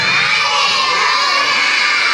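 A crowd of children shouts together in a loud, sustained cheer at a mission event, voices blending into one bright, continuous roar for about two seconds.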